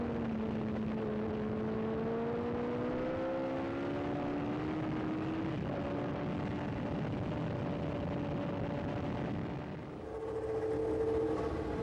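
A McLaren Formula One car from 1979 races at the Hockenheim circuit, its engine note a steady high whine that climbs and falls through the gears. The sound carries continuously for about twelve seconds without a break.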